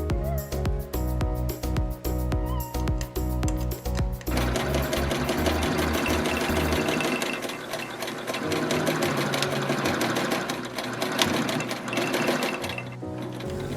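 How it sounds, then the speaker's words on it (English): A sewing machine stitches a fabric backing to a face mask, first in a fast rhythmic chatter of needle strokes and then in a smoother continuous run, close and steady without talk. "Now you're going to sew the backing and the nice piece of material together."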